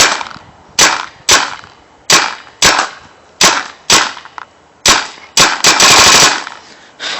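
An Alpha Black paintball gun fires a string of loud, sharp close-range pops, about a dozen shots at uneven intervals with a quick cluster near the end, no talk.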